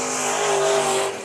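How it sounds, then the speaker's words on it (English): A smoking race car rolls onto the dirt track at Bakersfield Speedway for a heat race, its engine holding a loud, steady buzzing drone that eases off at the end. "Robbie Sawyer pulls out on the track, and that car's already smoking up a storm."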